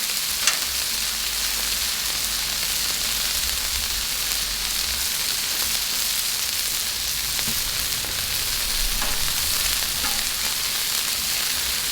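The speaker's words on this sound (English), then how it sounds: "Ooh, those onions smell good. I think onions are one of my favorite things to cook on the griddle." Onions sizzle on a hot Blackstone griddle, a constant loud frying hiss held steady for the whole stretch, close up and without talking.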